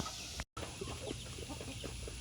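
Chickens and a rooster clucking in a morning farmyard, a steady scatter of short clucks and calls at close to middle distance over faint outdoor background, with a brief dropout near the start.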